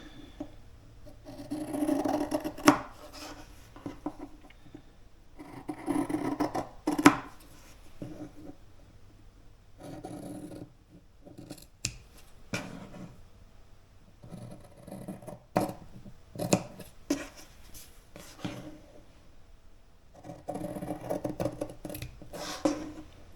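Scissors snip through quilt fabric, cutting prairie point pieces toward the center in close, quiet bursts of short slicing and rasping cuts separated by pauses of soft handling noise.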